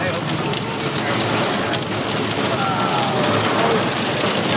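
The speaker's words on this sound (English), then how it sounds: "Hail and rain and lightning and thunder." Heavy rain and hail pounding hard on a surface, a dense continuous roar of drops with a faint low rumble beneath.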